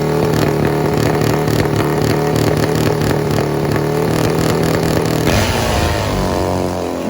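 Nitro-burning drag racing motorcycle engine, a loud, harsh, steady roar at high revs that suddenly drops and cuts out near the end, no talk over it.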